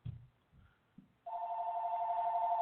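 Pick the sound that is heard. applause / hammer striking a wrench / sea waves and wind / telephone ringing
telephone ringing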